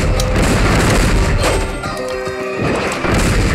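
Bombs exploding in Kirby Triple Deluxe, a rapid series of loud game booms and crashes layered over dense background music, continuous and heavy with no talk.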